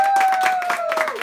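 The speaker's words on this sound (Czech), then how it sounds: "já bych chtěla velký potlesk" Applause from attendees at a Prague regional meeting of the Pirate Party, brief and fairly steady, with a sustained tone running beneath it.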